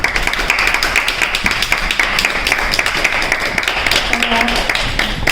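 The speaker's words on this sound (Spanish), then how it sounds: "Pido un fuerte aplauso para ambas, por favor." Audience applause at a book presentation in a reading room, a steady wash of clapping lasting throughout at moderate loudness, with faint murmurs underneath.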